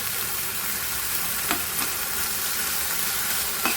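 Steady, loud sizzling of food frying in a pan for matar paneer, a continuous hiss close to the mic with a few faint spatula taps against the pan.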